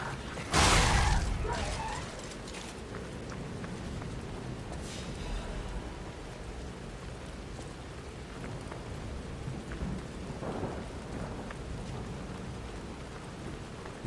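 Heavy rain pours steadily throughout a stormy scene in the video game Lies of P, with a loud thunder crack early on and fainter rumbles rolling in the background later.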